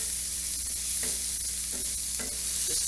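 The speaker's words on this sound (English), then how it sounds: "So we're going to toast that in there with the onions." Cumin and cinnamon toasting with onions in oil, a steady soft sizzle with a few scraping stirs of a utensil, moderately close and alone.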